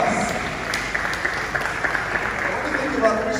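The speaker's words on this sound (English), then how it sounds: "Please give yourselves a round of applause." Applause from an audience at a Christmas carol event, a steady wash of clapping held at an even level throughout with a few sharper hand claps standing out near the front.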